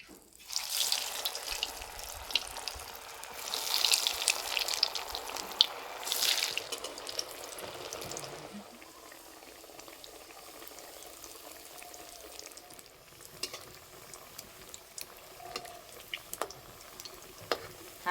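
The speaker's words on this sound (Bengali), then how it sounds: "হালকা লাল করে ভেজে নেব।" Cauliflower chops fry in hot oil with a steady bubbling sizzle that is louder at first, then settles into a softer crackle with scattered pops.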